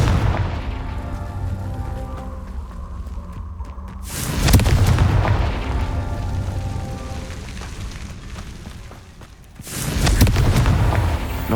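Confringo fire spell exploding in the video game Hogwarts Legacy, two loud booming blasts several seconds apart, each followed by a rumbling decay, set over a dense game background of music and ambience.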